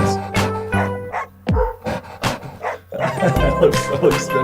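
Musical track built from dog barks and yips, pitched and arranged into a rhythmic melody, with short bark hits repeating over a steady beat.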